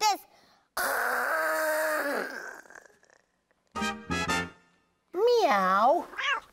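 A voice imitates a cat, giving a drawn-out meow followed by shorter, wavering meow-like cries with quiet gaps between them.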